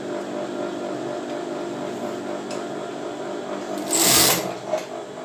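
An electric sewing machine runs steadily while stitching a bra seam, its even motor hum continuing throughout with a brief louder burst near the end.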